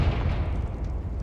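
Confringo fire spell exploding in the Hogwarts Legacy video game, a dense, loud rumbling boom that sustains without a break through the short moment, with no talking.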